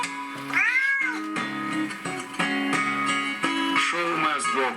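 A cat meows repeatedly in a rising and falling, almost sung series of close, loud cries, with short pauses between calls.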